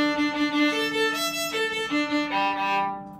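A violin is bowed on open strings only, giving a series of sustained, steady notes with short changes between them, close and clear with no talking.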